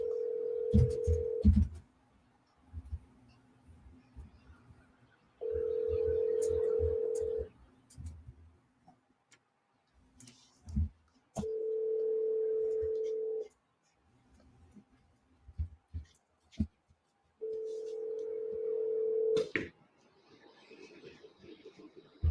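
A house phone line rings in four separate bursts, each about two seconds long with several seconds of quiet between them, heard a little way off among faint clicks and background noise.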